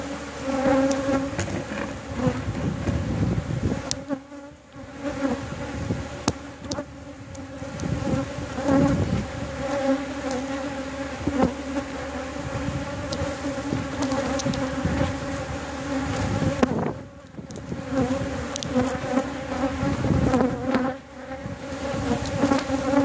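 Honeybees swarm around a backyard hive in a dense, continuous buzz, close and steady, with individual bees droning past now and then.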